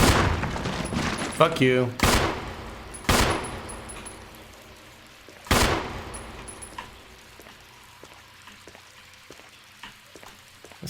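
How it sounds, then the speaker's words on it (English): Jill firing her pistol at a shark in Resident Evil 1 HD, several sharp, loud shots spaced a second or two apart, each ringing out with a decaying tail, with a brief curse spoken. "How about I just blast it with my pistol?"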